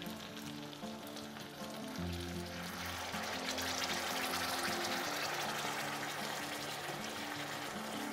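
Aubergine wrap mixture poured into a hot pan, giving a loud, steady sizzle and frying crackle that swells as the liquid spreads, with no talking.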